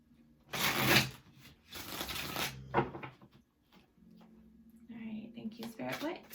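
Tarot cards being shuffled at close range in bursts of crisp riffling and rustling, separated by short pauses, with a soft voice speaking near the end.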